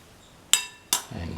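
A spoon clinks twice against a bowl while carrot tomato yogurt is mixed, two sharp, separate metallic taps close by, followed by a soft low rustle.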